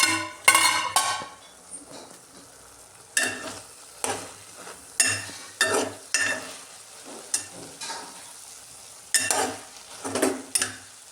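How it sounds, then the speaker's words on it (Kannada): Okra curry (bhindi palya) frying in a pan and being stirred, with loud, close spoon scrapes and clanks coming in regular bursts about once a second over a faint sizzle. "ಕ್ಲೀನ್ ಮಾಡಿಕೊಂಡು ಈಗ ಈ ಕಡೆ ಪಲ್ಯಕ್ಕಿಟ್ಟೇನೆ. ಬೆಂಡೆಕಾಯಿ ಪಲ್ಯ."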